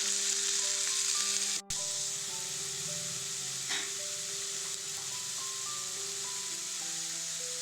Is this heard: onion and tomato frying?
yes